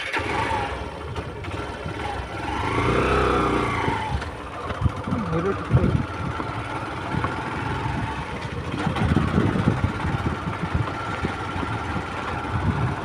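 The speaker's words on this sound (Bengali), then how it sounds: "চলো এখন বাইকটা স্টার্ট দিই দিয়ে যাই" A motorcycle engine cranks and catches, then settles into a steady close idle with a few revs rising and falling.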